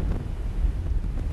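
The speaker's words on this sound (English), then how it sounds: "it's not my favorite weather because it's pretty chilly and windy" Chilly, bracing wind sweeps across the beach at Datan on Taiwan's west coast, a continuous low buffeting roar gusting against the microphone with no voices.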